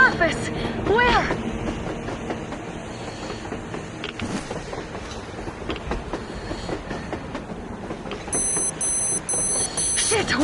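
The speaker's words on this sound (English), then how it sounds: "A train! A damn train on the surface!" Train passing on the surface in the video game Metro Exodus, a steady rolling rumble with rhythmic rail clatter and a repeating beeping tone near the end, while game characters talk over it.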